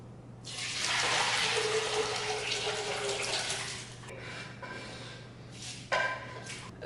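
Liquid pours into a Dutch oven in a steady, broadband rush that runs for several seconds, then thins to a gentler trickle with a brief splash near the end, heard up close with no talking.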